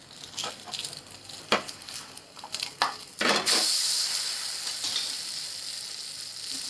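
An egg paratha made with wheat flour sizzles in a pan, with a few scraping clicks from the spatula as it is flipped, then a louder, steady frying hiss that continues alone.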